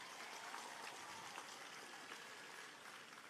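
An audience at the Masskara Festival applauds with a continuous, even crackle of many hands clapping, faint and distant, with no talk over it.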